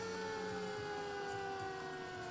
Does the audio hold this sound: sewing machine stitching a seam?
no